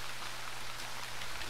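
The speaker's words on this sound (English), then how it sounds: "This is gentle rain now." Soft, even patter of gentle rain in the Zero Sievert game, steady and unbroken over a faint low drone.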